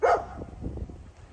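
A dog gives one sharp, close bark right at the start, followed by a second of low muffled rustling.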